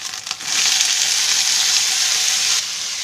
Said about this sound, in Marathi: आता त्याच्यामध्ये भाजी टाकायची